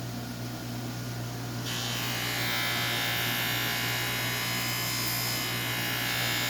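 Steady motorized buffing wheel whirring against a Cold Steel Counter Point XL knife blade, a continuous close hum with a brightening hiss as contact increases partway through.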